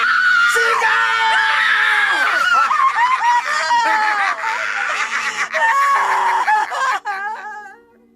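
A person screams loudly and continuously at close range, the shriek wavering in pitch and breaking into whimpering, giggly cries before fading out.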